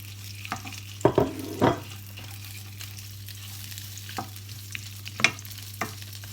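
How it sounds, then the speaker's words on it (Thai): Shrimp stir-fried for pad thai, heard as a low sizzle under a steady hum, broken by a few sharp clacks and scrapes of a spatula against the pan, close by, no talking. "ผัดกุ้งก่อนจ้ะ ทำกุ้งให้สุกก่อนเนาะ"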